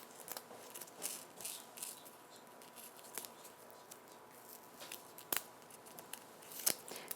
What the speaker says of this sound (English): run it around with my scissors